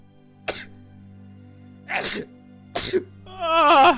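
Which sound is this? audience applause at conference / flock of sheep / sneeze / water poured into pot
sneeze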